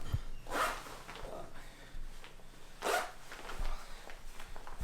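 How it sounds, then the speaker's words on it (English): Zipper on a Klim Hardanger one-piece riding suit being worked closed, two rasping zip pulls around the first and third seconds, close and moderately loud, with softer rustling of the suit fabric between them. "I guess the zip will take some time to loosen up."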